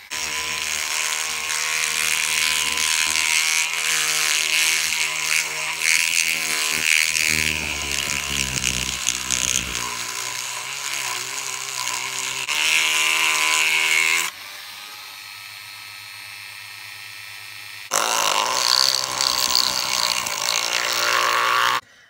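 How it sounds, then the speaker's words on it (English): A drill whines steadily while grinding into the metal cylinder head of an airsoft sniper rifle, its pitch shifting under load, stopping briefly twice before starting up again. "we've just finished drilling in what we reckon is deep enough and wide enough using a drill piece"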